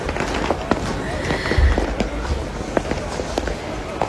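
Fireworks rockets set off from alcohol bottles in a New Year's street crowd in Frankfurt, Germany, give scattered sharp pops and crackles at mid distance over a constant crowd hubbub.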